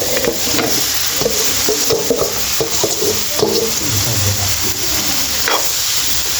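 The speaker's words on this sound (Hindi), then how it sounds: "इसको अच्छी तरह मिक्स करेंगे।" A raw mixture of mashed potato, tomato and onion for cutlets is stirred and mixed in a bowl, giving a loud, close, continuous hissy scraping with repeated knocks and clinks, no speech.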